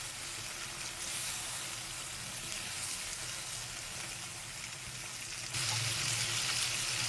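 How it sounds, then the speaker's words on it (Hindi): Chicken frying in masala in a pot while shahi degi chicken korma is cooked, a steady dense sizzle throughout that swells a little louder near the end, heard alone without talk. "मसाले के साथ चिकन पकाते हुए।"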